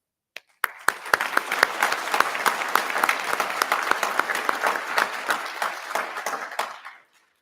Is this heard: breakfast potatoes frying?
no